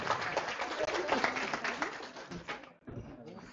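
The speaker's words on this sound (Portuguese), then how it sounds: "Uma salva de palmas, gente." An audience at an event celebrating women farmers claps for a psychologist taking the floor, a brief burst of crowd applause mixed with voices that drops away abruptly near the end.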